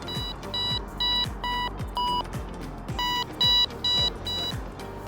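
A Wolf QR carp bite alarm receiver emits a series of short, repeated electronic beeps in a steady rhythm, some tones higher than others, clear and close with no voices.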